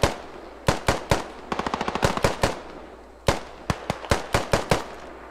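Suppressing gunfire in a shooter video game: sharp automatic bursts and single shots crack out in quick uneven clusters, loud and close, with short gaps between volleys.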